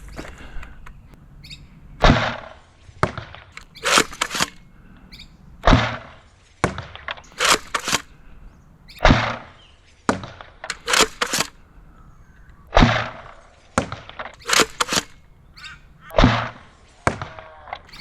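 Sabre M20C airsoft gun with no barrel rifling firing at a target 20 meters away, giving roughly a dozen sharp, loud snapping shots and impacts at irregular intervals with short gaps between them.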